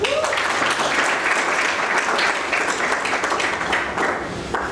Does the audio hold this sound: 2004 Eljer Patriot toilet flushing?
no